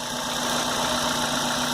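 Repaired car engine, from a Corsa 1.0 flex, Etios or Montana 1.4 workshop job, idling smoothly and steadily nearby with a constant hum and a faint tonal whine throughout, no speech.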